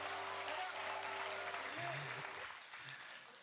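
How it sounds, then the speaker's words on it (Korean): Faint applause from a church congregation at a Korean young adults' worship service, a soft wash of clapping that fades after a few seconds beneath low hum and tonal background sounds. "예, 박수 한번 쳐주세요."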